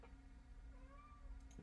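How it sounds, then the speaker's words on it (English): A cat gives a drawn-out, faint meow nearby in a quiet room, a single rising and falling call followed by a brief soft noise at the end. "Sorry for the meowing."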